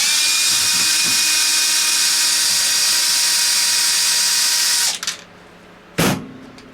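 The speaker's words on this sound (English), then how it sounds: "And we're gonna grab our drill." High-pitched whine of a power drill backing a screw out of an RC car's gear cover, running steadily, then stopping with a couple of short bursts and a final brief spin.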